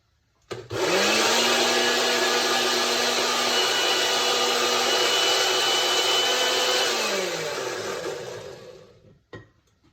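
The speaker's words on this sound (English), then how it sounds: "I'm gonna put on the blender and see if that helps." A blender whirs loudly at a constant high pitch for several seconds, then slows and winds down to a stop.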